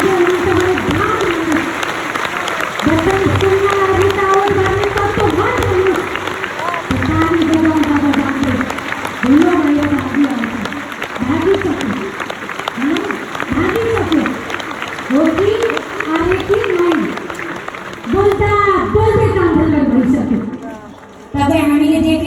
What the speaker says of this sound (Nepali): अझै ताली बजाउँ